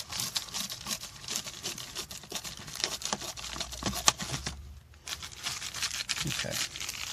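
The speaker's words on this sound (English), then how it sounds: "Bear with me to do this relief cut one-handed." Reflectix foil-bubble insulation crinkles and rustles while a relief cut is made one-handed, a close run of crackling, crumpling handling sounds with a brief pause near the end.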